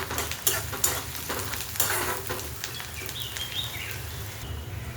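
Curry leaves sizzle in hot oil for an ivory gourd dish, a steady close frying hiss with a few sharp pops and spatters early on.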